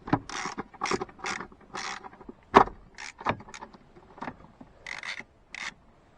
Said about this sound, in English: So I'm just going to go ahead and get these clamp bolts loose.